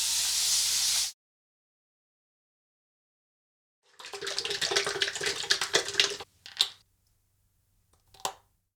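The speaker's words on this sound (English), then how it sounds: "wash off the alum once again with cold water" Cold water from a tap splashes as a face is rinsed after shaving, with a burst of running water, silence, then several seconds of splashing and a few short final splashes, close by.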